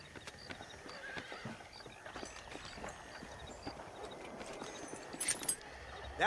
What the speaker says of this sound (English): Do you see those horses to the left by the building across the street?